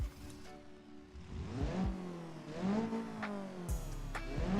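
A custom car engine sound from a video game, based on a Covet engine, rises and falls in pitch as the car revs and shifts, moderately loud and heard on its own without talk.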